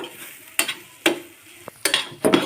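Green chilli paste frying in a pan for a Konaseema-style tamarind-leaf dried-fish curry, with a low sizzle and four or five distinct scraping stirs of a spoon against the pan, close and fairly soft.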